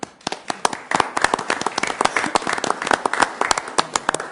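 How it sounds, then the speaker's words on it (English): A council meeting audience gives a round of applause, fairly loud with distinct, sharp individual claps standing out close by over a broader clatter of hands. "we're going to give you a round of applause"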